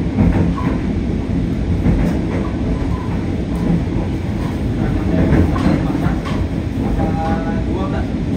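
A passenger train on the Sukabumi–Bogor route in Indonesia rumbles steadily along the tracks near Karangtengah station, loud and close, with a continuous low roar and faint rhythmic clatter throughout.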